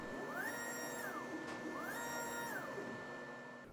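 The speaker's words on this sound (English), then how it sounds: "Powering up the machine, the P2 homes the X and Y axes." An xTool P2 55W CO2 laser cutter homing its X and Y axes: stepper motors whine up and down in pitch in two sweeping moves, close and steady over a background hum.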